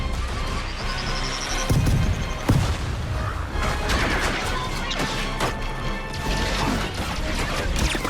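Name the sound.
explosion sound effects from video game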